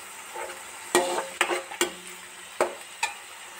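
Tomatoes fry in a pan for vegetable chicken pulao, a low sizzle broken by several sharp, close spatula scrapes and taps against the metal at irregular intervals.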